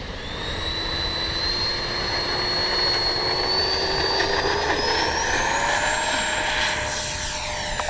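A Freewing 64mm JL-10/L-15 twin-fan RC model jet takes off, its high ducted-fan whine holding steady and then rising in pitch as it throttles up, loud and continuous with no voices.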